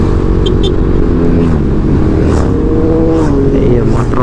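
Motorcycles belonging to a group of friends rev loudly and continuously close by on a rural road in Barangay Baobo, Baler, Aurora, with engine drone filling the whole stretch and voices underneath.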